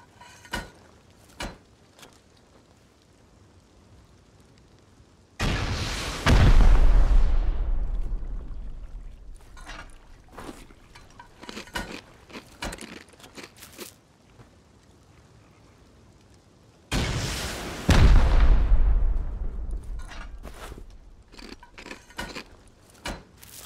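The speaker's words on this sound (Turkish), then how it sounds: "Yüksek hızlı roket." Two loud high-velocity rocket blasts in the survival game Rust, each a sudden roaring boom that decays over several seconds, separated by about ten seconds of quieter sharp cracks and thuds.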